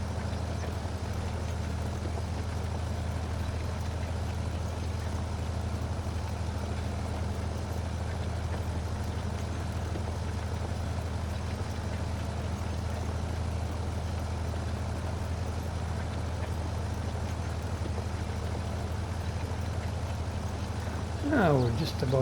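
An old tractor engine from Farming Simulator 22 drones with a steady, low, continuous rumble throughout, holding an even level.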